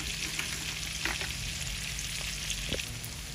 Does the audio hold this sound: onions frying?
yes